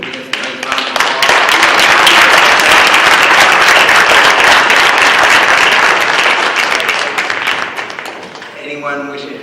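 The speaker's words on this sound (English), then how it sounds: "let's give all our award recipients a nice round of applause." Loud applause for award recipients at a school board meeting, rising quickly to a full, dense clapping that holds steady then tapers off, with a voice starting up as it fades.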